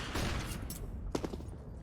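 A sharp gunshot from a Counter-Strike headshot, one distinct report cutting through a busy game mix with other muffled shots and background noise.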